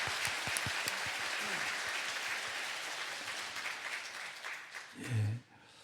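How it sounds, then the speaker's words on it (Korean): A church congregation applauds the choir during a Palm Sunday Mass, a dense wash of many hands clapping together that slowly thins and fades out near the end, followed by a short low murmur of voices. "우리 힘내라고 감사하다고 다시 한번 박수 주시죠."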